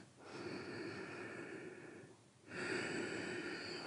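Slow ujjayi yoga breathing: a long, soft, throaty breath with a steady hiss, a short pause, then a second long breath. The breathing is close and quiet, with no talking.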